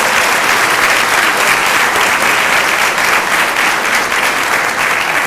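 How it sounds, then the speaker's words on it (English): An audience at a queen pageant claps steadily and enthusiastically, a dense, even wash of applause throughout. "A round of applause for all the littles and littles."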